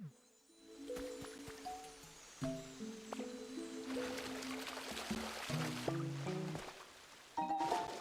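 Splashing as a character falls into water in Pokémon Pokopia, a scattering of wet squishy plops and rustles with short tonal game blips, moderately quiet and uneven over several seconds.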